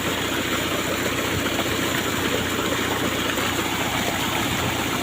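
A three-cylinder diesel engine driving a water pump runs at a constant steady drone, loud and close with a low rumbling throb and no talking.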